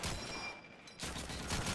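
Gunfire in the video game Call of Duty 2 during a competitive match on the Burgundy map, a dense burst of shots at moderate loudness, broken by a brief lull before the firing resumes.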